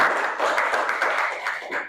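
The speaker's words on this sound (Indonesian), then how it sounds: "Tepuk tangan buat Meli." Students in a classroom give a brief burst of clapping that lasts about two seconds, with quick, uneven claps close by.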